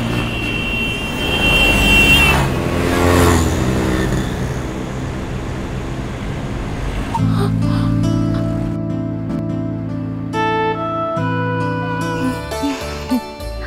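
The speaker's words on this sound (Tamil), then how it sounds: "இது ரெட்ரோஃபிட்டட் ஸ்கூட்டருங்க" A retrofitted scooter runs close by, first a loud, rough engine roar, then a steadier droning hum with tonal whine.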